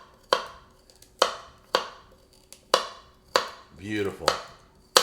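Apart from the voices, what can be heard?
knife chopping carrot ends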